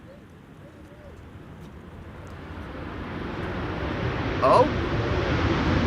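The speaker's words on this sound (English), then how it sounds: "I think that's the second Transavia of the show using its reversers upon landing that we are seeing today." Transavia airliner landing on the Polderbaan runway at Amsterdam Schiphol, its thrust reversers building into a broad rising roar from far to nearer, with a brief exclamation from a voice partway through.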